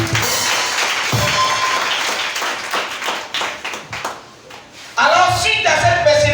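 A church congregation claps and cheers for Jesus of Nazareth during a Pentecost sermon, dense rhythmic clapping swelling louder near the end while voices call out over it.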